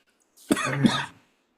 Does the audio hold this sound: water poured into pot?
no